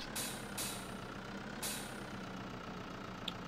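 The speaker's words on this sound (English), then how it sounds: "Wow, air brake crazy." A truck's air brakes in Farm Simulator 2013 release three sharp hissing bursts early on over a low, steady engine drone, with one faint tick near the end.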